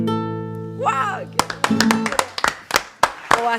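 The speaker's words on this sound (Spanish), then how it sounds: "Ovación, ovación, Juan." Studio applause for a performer on a television show, a few loud, separate hand claps after a held sung note and a voice, with talk overlapping.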